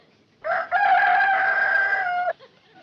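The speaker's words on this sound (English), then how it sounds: "Rooster crows before he goes to bed." A single loud rooster crow, one long strained call lasting nearly two seconds, close to the microphone and otherwise quiet.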